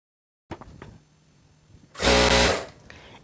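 A sewing machine runs a short burst while stitching the side seam of a kameez, loud and close for about half a second after some light handling clicks and fabric rustle.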